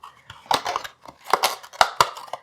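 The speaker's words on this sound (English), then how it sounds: "to get them set up, you just fold that first flap down" A flat cardboard candy box is folded into shape, with a series of soft, close crinkles, scrapes and taps as its flaps bend and tuck together.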